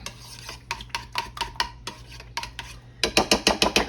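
Spicy sriracha sauce is stirred briskly in a bowl for oven-baked sticky BBQ ribs, with repeated scraping strokes in an uneven rhythm that quicken and grow louder near the end, over a low steady hum.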